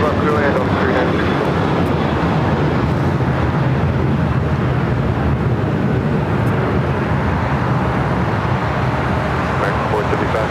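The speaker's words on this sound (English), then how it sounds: "So that American 737 heading to Chicago." An American Airlines Boeing 737 at LAX gives off a loud, constant jet roar across the whole stretch, mixed with general airport rumble and steady from start to finish.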